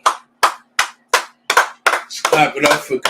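Hand claps during a livestreamed scripture study class: six crisp, evenly spaced claps close to the mic, followed by someone speaking.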